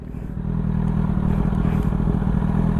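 A Kawasaki Z800 motorcycle ridden in second gear on a wheelie attempt, a steady loud low engine drone that rises in level after the first half second and holds with some rattly clatter, no talk.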